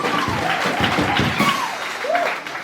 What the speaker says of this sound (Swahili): Tumpige Yesu makofi ya heshima.